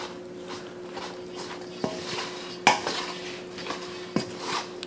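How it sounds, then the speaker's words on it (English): Turkey wing stuffing being mixed in a pan, soft scraping and clinks of a spoon against metal with a few sharper knocks, fairly quiet and without talk. "We're just going to mix it up."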